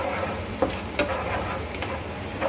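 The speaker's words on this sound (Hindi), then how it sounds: "मिर्च को अच्छे से प्याज के साथ हम फ्राई कर लेंगे" Onions and green chilies frying in a pan for a dhaba-style dum arbi curry, a steady close sizzle with a few sharp clicks of a spoon stirring against the pan, no voices.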